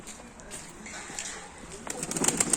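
Pigeons coo on a street with low murmuring calls against steady background noise, and the calls grow busier and louder near the end, joined by some higher chirps.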